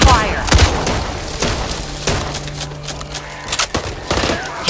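Gunfire in the co-op zombie shooter Back 4 Blood, rapid bursts of loud shots and automatic fire in close, irregular volleys, with voices calling out underneath.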